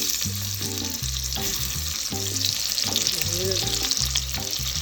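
Scallions and onion frying in a pan alongside garlic, with a steady loud sizzle throughout and a repeating low tonal pattern of background music running underneath.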